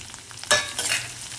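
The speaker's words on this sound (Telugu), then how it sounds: "వేగిన తర్వాత మనం తరిగి పెట్టుకున్న ఉల్లిపాయ ముక్కలు వేసి వేయించుకోవాలి" Chopped onion pieces tipped into hot tempering oil with curry leaves for an amaranth-stem curry, giving a sudden loud sizzle that swells, settles, then flares again as they are stirred, with no talk.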